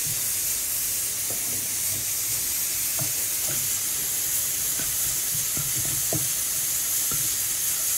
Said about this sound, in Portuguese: Nós vamos fritar o nosso alho.